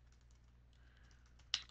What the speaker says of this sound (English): how'd my typing do?